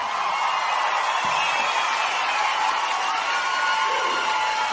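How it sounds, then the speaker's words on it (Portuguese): A crowd at a live acoustic concert applauds and cheers continuously, dense clapping with scattered whoops filling the whole stretch. "Pode aplaudir, gente. Pode aplaudir."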